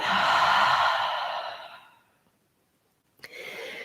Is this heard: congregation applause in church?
no